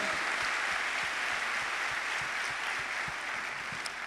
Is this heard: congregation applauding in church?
yes